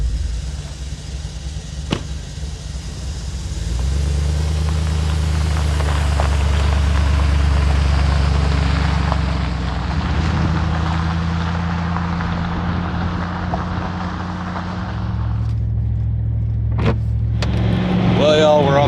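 A truck cruising on a four-lane highway in strong wind, with a steady low engine drone and a broad roar of road and wind noise that shifts in pitch partway through, loud and close from inside the cab.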